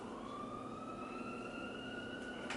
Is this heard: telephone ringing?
no